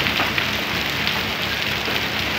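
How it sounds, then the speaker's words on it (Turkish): Heavy rain pours in Beşpınar village, Vezirköprü, Samsun, as a dense, unbroken hiss of drops on surfaces at a constant loud level, with no voices. "Şu anda halen yağmaya devam ediyor."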